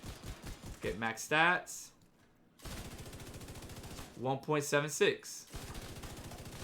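An infantry MG5 light machine gun fires in The Division 2 in fast, evenly spaced bursts. Two long strings of rapid shots are separated by a short pause, and someone talks between and over the firing.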